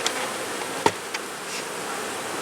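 Honey bees at the top of a hive after a walk-away split, a steady close hum with a few brief sharper buzzes passing near, no talking.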